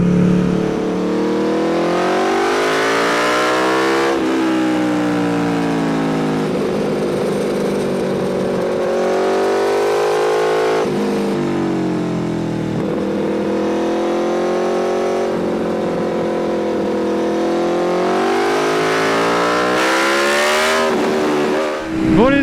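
An Aprilia Tuono V4 1100 Factory motorcycle is ridden hard, its loud engine note climbing repeatedly through the revs, then dropping abruptly at each gear change, under a constant rush of wind noise.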